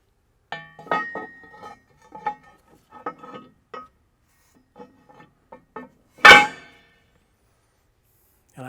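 A new metal smooth roll scraper for a John Deere 7000 Series chopper is handled and set in place, giving scattered light clinks and scrapes, then one sharp metallic clang, with no talking.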